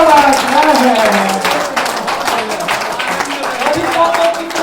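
An audience at a Hindi poetry recital claps steadily and loudly, a continuous dense wash of hand claps mixed with crowd noise and some voices throughout.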